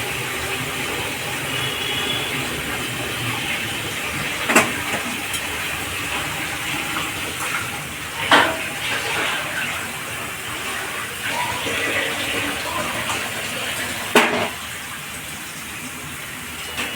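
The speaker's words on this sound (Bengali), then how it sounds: "মিক্সির মধ্যে অনেক টমেটো ক্যাপসিকাম লাগানো ছিল, সেগুলো ধুয়ে দিয়ে দিলাম।" Tomato and capsicum residue rinsed off a mixer jar under a running kitchen tap, a steady gush of water with a few brief clanks of the jar, heard alone at close range.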